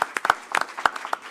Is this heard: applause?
yes